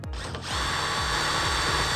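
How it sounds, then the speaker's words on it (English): A power drill whines steadily at close range, its motor pitch holding constant as it bites through the metal body of a Nissan R35 GTR, with no talking. "drill the final hole"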